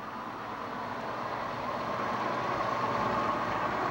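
Engine 3, a recent fire engine, moves past in a 1988 South Windsor, Connecticut volunteer fire department parade with a low, steady engine drone that builds slightly, heard alone with no voices.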